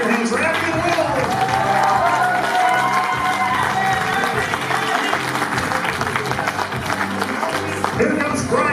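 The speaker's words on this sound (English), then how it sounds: "Clap your hands for Abby and Will!" Guests at a wedding reception clap loudly and continuously as the couple is introduced, the applause mixed with crowd voices and cheering along with background music throughout.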